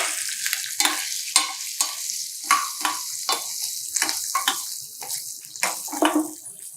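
Green chillies and a pinch of asafoetida fry in a pan for raw mango pulihora, with a close, continuous sizzle broken by repeated stirring scrapes and splatters.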